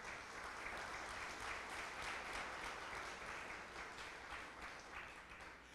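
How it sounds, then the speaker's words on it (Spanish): A church congregation applauds in a steady wash of many hands clapping at once, faint and distant-sounding, sustained for several seconds without any talking. "Denle un aplauso al Señor por esa palabra"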